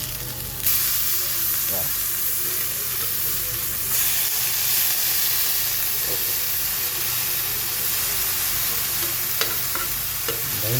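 Pork fries in a covered pan with a loud, steady sizzle and hiss up close, broken by a few clinks and knocks of a lid or utensil.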